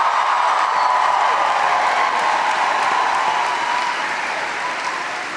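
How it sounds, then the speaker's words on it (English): A large political rally crowd in Charleston, South Carolina, gives sustained, dense applause for a student speaker, a loud steady roar of clapping that fades slightly toward the end. "Give Tristan a huge round of applause"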